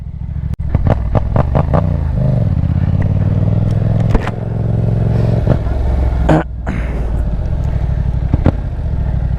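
A Yamaha MT/FZ-07 motorcycle doing donuts, its engine revving and droning close up with sharp clattering bursts and a brief dropout partway through.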